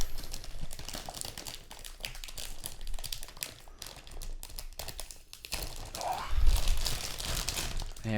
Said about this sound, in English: get it out of the plastic